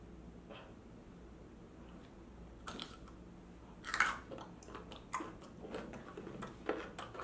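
Quiet, close crunching bites of small salty pickles come in short irregular bursts over a faint steady background, with no talking.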